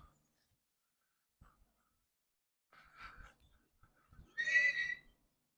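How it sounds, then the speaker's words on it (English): A bunch of wild hogs by a lake give a few faint, scattered snorts, then one louder squealing call, heard at some distance with quiet gaps between. "Those are wild hogs."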